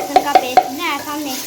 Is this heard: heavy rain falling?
no